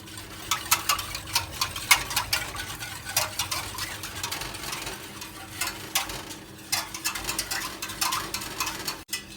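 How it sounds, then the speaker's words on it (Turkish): Milk pudding stirred in a pot, quick irregular scraping and clinking of a spoon against the pot in a steady, busy rhythm, close and fairly loud. "bunu yani koyulaşıncaya kadar yani katı oluncaya kadar köpükleninceye kadar karıştırıyoruz"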